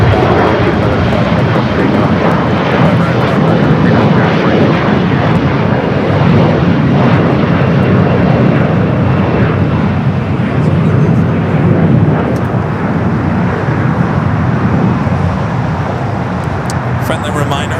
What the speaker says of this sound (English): Up next is Austrian, the 777 at 200ER, coming up from Vienna, wearing the Johann Strauss special livery